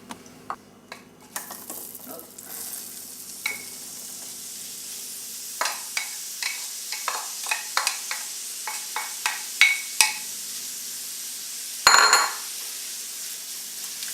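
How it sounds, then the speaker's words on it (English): Onions and cremini mushrooms with ground spices sautéing in a pan: a low continuous sizzle beneath repeated sharp clicks and scrapes of a utensil against the pan, coming in a steady rhythm, plus one louder clatter near the end. "So I'm basically letting our ground spices cook in with our onions and cremini mushroom"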